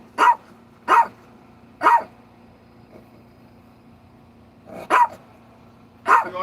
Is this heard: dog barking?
yes